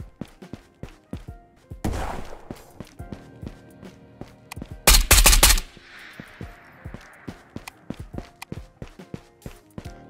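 Bursts of automatic gunfire from a weapon in the VR shooter Ghosts of Tabor, rapid loud cracks in short strings, with a heavier sustained burst midway and footsteps and handling clicks in between.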